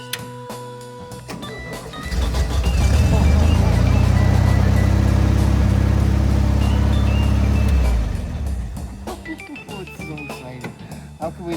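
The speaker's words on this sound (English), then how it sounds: "This is a true cold start, ladies and gentlemen." A dune buggy's engine cold-starts, catching after a brief crank and settling into a loud, steady idle for several seconds before it is shut off, with voices talking around it.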